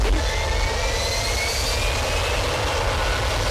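A loud, steady jet engine roar fills the scene with a rising whine, as an airplane powers up on the runway.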